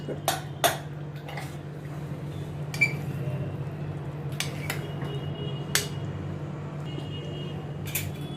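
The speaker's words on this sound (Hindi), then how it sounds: "अभी ये स्टीम निकल गई है, अभी मैं कुकर में अभी खोलती हूँ।" Metal clinks and clatters as the lid of a pressure cooker of chickpeas for chole is opened after the steam is released, a few sharp knocks over a steady low kitchen hum.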